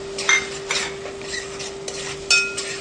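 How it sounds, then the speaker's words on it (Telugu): Ginger garlic paste and tomato paste frying in a pan, with a spoon scraping and clinking against the metal in a few distinct strokes over a faint sizzle and a steady tonal hum, no voices. "ఇప్పుడు ఒక స్పూను అల్లం వెల్లుల్లి పేస్ట్. ఇది కూడా ఫ్రై చేసుకుందాం."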